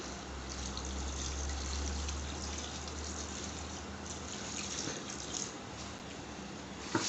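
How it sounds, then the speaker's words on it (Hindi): About a liter of water pours steadily into a cooking pot of beef trotters, a continuous close splashing gush that lasts throughout without pauses. "अब इसके अंदर 1 लीटर पानी और डालूँगी"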